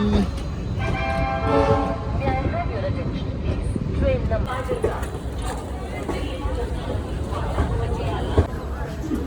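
The Fazilka–Delhi Intercity Express pulls into Dhuri Junction with a horn toot and rumbling wheels amid a busy platform hubbub of voices, people talking close by throughout.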